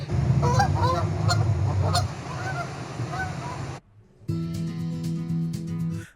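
Geese honk loudly and repeatedly nearby, a flurry of overlapping calls over a low constant hum, broken by a brief near-silent gap before the hum resumes.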